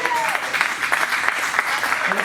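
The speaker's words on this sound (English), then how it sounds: "Let's give Caitlin a round of applause." Applause from a small gathered group at a California real estate investing event, scattered hand claps heard fairly close throughout, while a voice carries on over them.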